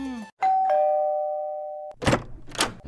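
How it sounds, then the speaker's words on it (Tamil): A doorbell chimes once with a long sustained tone, followed by two bursts of louder noise nearby. "முதல்ல காலிங் பெல் அடிச்சு விசாரிப்போம்"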